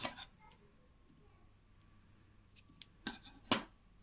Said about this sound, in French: je pourrai faire une maille en l'air et couper mon fil